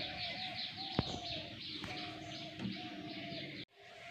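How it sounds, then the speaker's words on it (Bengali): On a cold early morning, birds chirp in repeated bright bursts while doves coo softly nearby, with a sharp click partway through before the sound briefly cuts out. "পাখির কিচিরমিচির"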